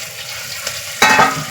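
Chopped tomatoes dropped onto browned onions in a pan for tomato pulao, a quiet low sizzle that jumps to a louder, brighter hiss and crackle about a second in.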